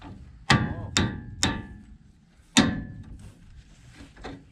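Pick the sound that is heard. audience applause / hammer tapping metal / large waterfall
hammer tapping metal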